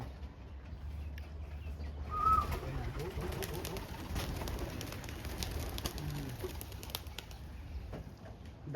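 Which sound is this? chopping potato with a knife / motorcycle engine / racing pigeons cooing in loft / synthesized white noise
racing pigeons cooing in loft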